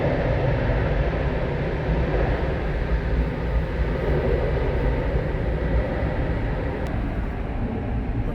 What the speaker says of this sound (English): plane taking off there.